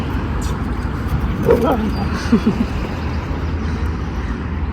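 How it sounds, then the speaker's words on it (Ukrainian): A few short dog barks and a whimper rise over steady outdoor noise in a fenced dog area of a park, brief and moderately close, with stretches of low rumble in between. "Вигулюємо собачок, з Марти вже погуляли"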